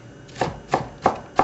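A kitchen knife chops through diced onions on a cutting board: four crisp, evenly spaced thuds, close and clear, with nothing else over them.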